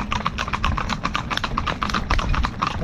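Several harness horses in a unicorn hitch canter, their hooves making a rapid, continuous clip-clop at fairly close range with no talk over it.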